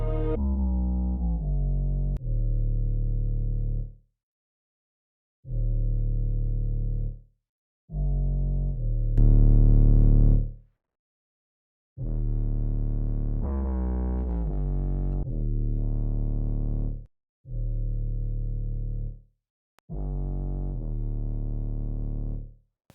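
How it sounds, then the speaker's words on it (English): Distorted bass notes in a drill beat built in BandLab, pitched an octave down, playing a gritty, buzzing line of sustained notes separated by short silences, loud and alone. "You can also add some effects on the bass, some distortion."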